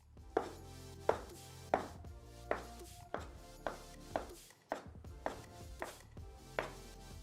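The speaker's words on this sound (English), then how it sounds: "I'll roll it into a tube with a diameter of about 2 centimeters and I'll cut my gnocchi." A knife cutting a 2-centimetre tube of potato gnocchi dough on a board, about ten crisp, evenly spaced chops heard up close.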